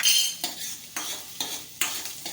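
Chili peppers and onion sizzle in hot oil, with five rhythmic scraping strokes of a spoon stirring them around the pan, close and clear.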